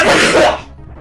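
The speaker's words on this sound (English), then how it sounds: "Oh no, I have to sneeze." A single loud sneeze bursts out up close, a sharp breathy blast that cuts off after about half a second and leaves a quiet tail.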